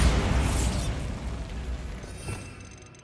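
Bombarda spell explosion in Hogwarts Legacy, a single broad booming burst that opens loud and decays over a few seconds into a fading rumble, alone without voices.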